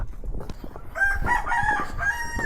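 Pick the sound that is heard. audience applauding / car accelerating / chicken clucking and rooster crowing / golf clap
chicken clucking and rooster crowing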